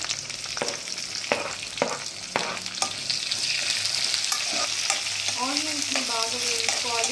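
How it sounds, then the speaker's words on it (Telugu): Onions hitting a hot pan and frying for a simple onion rice, with a steady loud sizzle throughout, scattered stirring scrapes early on and brief tonal clinks near the end, no talking. "నేను ఇప్పుడైతే ఆనియన్స్ వేసుకుంటున్నాను."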